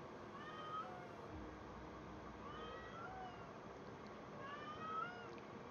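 A cat meows several times in a drawn-out, operatic way, faint and somewhat distant over a constant background hum, each call rising and falling in pitch.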